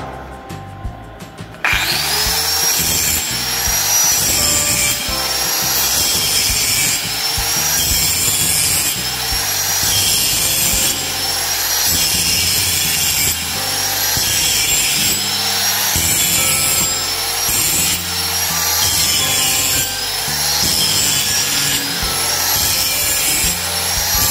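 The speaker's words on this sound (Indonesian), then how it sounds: "cara menggerinda biar rata harus dimulai dari ujung sampai ke ujung secara rata" Grinding flattens a weld bevel end to end on an SMAW 2G root-pass joint, making a close, harsh, continuous abrasive scraping with a rhythmic stroking pulse that runs for over twenty seconds without speech.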